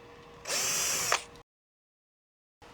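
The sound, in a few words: screws being removed with a power drill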